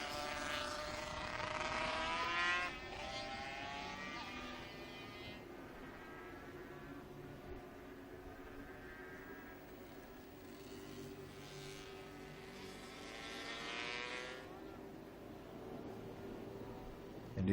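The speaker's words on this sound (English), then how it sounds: "Again, the 50cc bike." A 50cc classic racing motorcycle at a historic race meeting at Estoril, its high-pitched two-stroke engine whining past at a distance, rising and fading with swept harmonics across the track.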